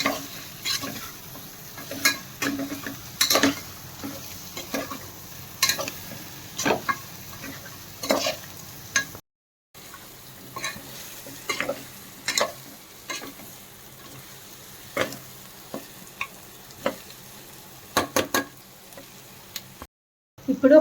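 Trotters curry (goat leg paya) being stirred and fried in a pan, a steady sizzle under repeated rhythmic spoon scrapes and taps against the pan, with two brief breaks of silence.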